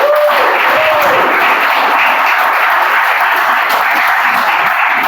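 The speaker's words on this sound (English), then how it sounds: "Can we have a huge round of applause for our Toastmaster of the day?" A room full of people at a Toastmasters club meeting breaks into a dense, steady round of applause for the Toastmaster of the day, loud and continuous with no voices over it.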